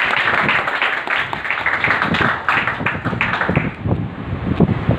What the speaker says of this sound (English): Give a round of applause and welcome.